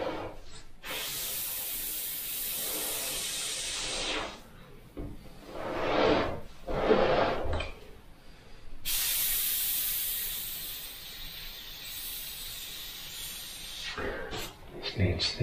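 Airbrush spraying opaque white paint onto a rivet's top edge, a steady close hiss in long bursts with brief pauses between passes.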